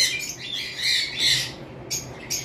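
Fischer's lovebirds, opaline pairs, squawking in a series of shrill, harsh calls close by, several overlapping bursts with brief pauses between.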